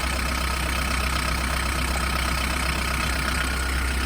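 A camper van engine idles steadily nearby after a battery discharge, a constant low rumble with an even, unchanging hum and no voices.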